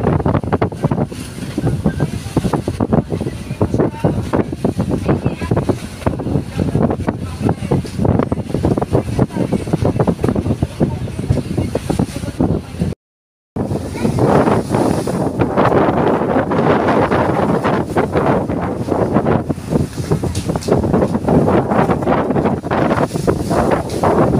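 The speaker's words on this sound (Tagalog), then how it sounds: "napakalakas po ng hangin at talagang medyo maalon po dito sa kalagitnaan" Strong wind buffets the microphone in a continuous roar, mixed with choppy water and a boat's hull slapping through rough waves, with a brief cut midway.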